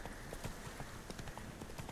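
A horse's hooves clip-clop at a slow walk in the game The Witcher 3, a steady rhythmic run of soft thuds over a faint ambient bed.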